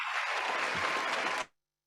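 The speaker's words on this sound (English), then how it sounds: "Yeah, that's all applause." Brief burst of steady applause from a small audience after a business pitch, dense clapping at moderate distance that cuts off abruptly into silence.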